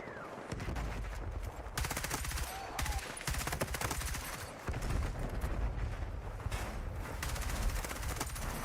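Rapid bursts of gunfire from weapons in the video game Battlefield RedSec crackle almost continuously, loud and close, with overlapping shots and automatic fire through the whole stretch.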